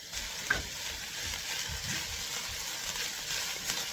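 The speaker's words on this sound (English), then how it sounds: "I am going to be adding in the poblano peppers that I use, the jalapeno, the cilantro" Poblano peppers, jalapeño and cilantro hit a pan of softened onions and garlic, giving a close, even sizzle with faint stirring scrapes and a small clink early on.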